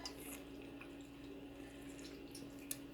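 Water runs into a container from a tap, a faint steady trickle with a few small drips, low and quiet against a constant background hum.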